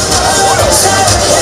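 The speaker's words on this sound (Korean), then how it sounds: "박수 기대하면서 박수를 보내세요" A baseball stadium crowd at Jamsil Baseball Stadium keeps up a dense, loud roar of applause and cheering throughout, continuous and close.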